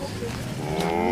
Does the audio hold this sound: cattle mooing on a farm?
yes